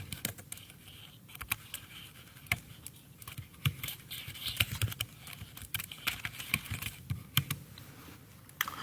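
Fingers type on a computer keyboard while entering text into an MS Word document, a steady run of close, quick key clicks with irregular rhythm and no talking.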